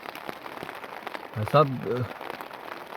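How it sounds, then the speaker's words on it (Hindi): Rain falls steadily on a forest camp in rainy Uttarakhand, a soft continuous patter under brief nearby talk. "काफी खतरनाक बारिश आ रखी है यार"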